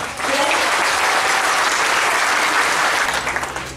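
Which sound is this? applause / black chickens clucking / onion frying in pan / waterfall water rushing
applause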